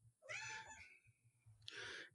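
A cat meows twice inside a car, two loud, drawn-out cries close to the microphone separated by about a second of quiet.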